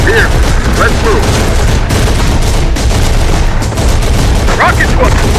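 Sustained enemy gunfire in Terminator Dark Fate Defiance, a continuous loud barrage of automatic shots and dull explosions packed tightly together, with short clipped voice callouts heard over the fighting.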